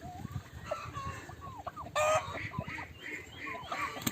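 A rooster and a turkey fight in a ring in Ingushetia, with close clucking, squawks and flapping. A sudden loud burst of flapping comes midway, and busy bird noise continues throughout without talk.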